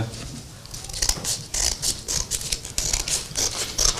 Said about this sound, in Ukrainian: Відкриваємо другий конверт